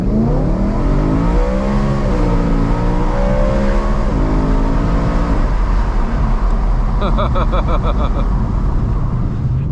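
A modified 2010 BMW E92 M3 engine revving hard as it accelerates with traction control off, pitch climbing through several gear changes, loud and close with road and wind roar throughout.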